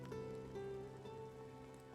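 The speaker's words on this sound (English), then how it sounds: "It's raining." Rain falls in Final Fantasy VII Remake as a quiet, steady patter on surfaces, mixed with a low sustained tonal hum for about two seconds, no voices.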